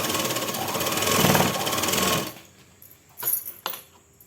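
A sewing machine stitching a salwar pant, joining the waistband to the fabric, runs in a loud continuous whir for about two seconds, then stops, followed by a few sharp clicks and knocks.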